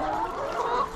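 Hens ready to lay eggs cluck and murmur steadily on a rural Thai farm, a continuous close flock chatter with no speech.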